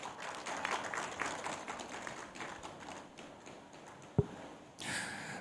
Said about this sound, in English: Let's welcome Abeku Jan Kwansa with a round of applause.